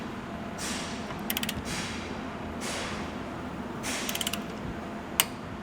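Torque wrench tightening an M10 bolt on a Toyota Prado 250 recovery tow point, with bursts of rapid ratchet clicks over a steady mechanical hum and a single sharp click at the end, close by.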